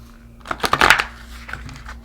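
A quick riffle of a tarot deck being shuffled, a brief papery flutter close up in a quiet room.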